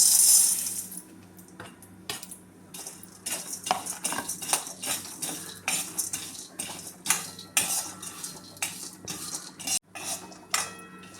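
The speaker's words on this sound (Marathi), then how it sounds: "परत मी अर्धा चमचा तूप टाकते, तुपावर ह्या बिया आपण भाजून घेऊया।" Mixed seeds stirred and roasted in ghee in a metal kadhai, a spoon scraping and clinking against the pan in quick irregular strokes over a faint background hum.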